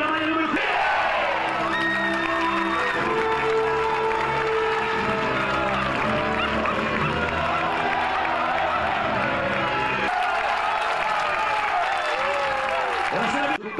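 Large crowd applauding and cheering at the official Lazio 2022/23 team presentation, steady loud clapping with whoops and shouts throughout, and a voice amplified over the noise.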